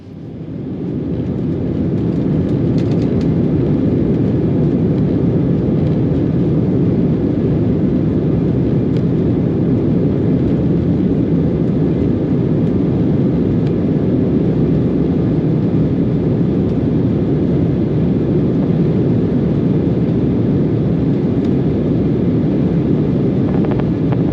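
Air France HOP Embraer regional jet taking off on a flight to Frankfurt, a loud, steady roar of engines and rushing air inside the cabin building up over the first seconds and then holding continuous throughout.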